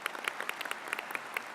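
An audience at a university graduation ceremony in Sydney applauds, a dense, steady patter of many hands clapping at moderate distance throughout.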